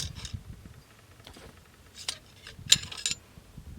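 A Ruger rifle is opened for takedown and its bolt removed, giving a few quiet metallic clicks and sliding rattles, with one sharper click near the end, close and alone.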